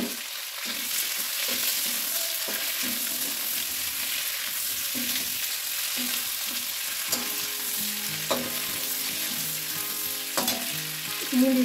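Capsicum frying in a pan of oil while chili chicken is cooked, with a steady dense sizzle and intermittent scrapes and clinks of a spatula stirring, fairly close and loud, no voices.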